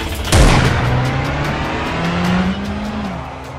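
A car speeds away in a zombie motion comic: a sharp burst of engine roar, then a steady loud acceleration with tire noise and a rising engine tone that fades slightly toward the end, no voices.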